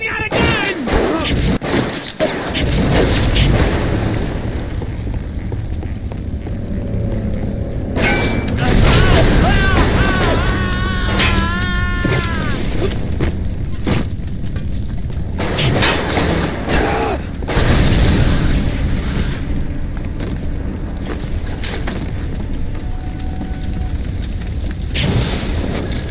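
Gunfire and explosions from the first-person shooter BioShock Remastered, dense and loud through most of the stretch, with booming blasts and mechanical clatter layered over a constant game soundscape.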